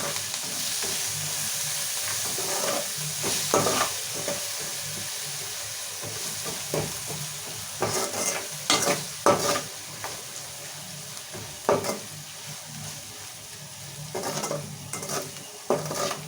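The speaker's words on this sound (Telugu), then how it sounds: "సో మిరపకాయలు, కొత్తిమీర, కరివేపాకు కూడా కొంచెం మగ్గాలి మంచి ఆయిల్లో." Green chillies, curry leaves and coriander fry in hot oil while cooking okra curry, giving a steady sizzle with repeated scraping stirs of a spoon against the pan, close and fairly loud, with no talking.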